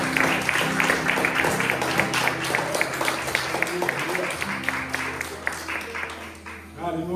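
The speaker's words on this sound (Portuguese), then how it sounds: "Uma salva de palmas, irmãos, para Jesus, nosso Senhor." A church congregation claps together in a long round of applause during a worship service, steady and fairly loud, with a voice speaking over it and music or organ tones sustained underneath.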